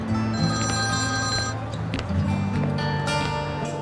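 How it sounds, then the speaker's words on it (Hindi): A telephone rings steadily with a bright electronic tone, loud and near, continuing the whole time with a dense background layer beneath it. "एक मिनट, मुझे फोन उठाना है।"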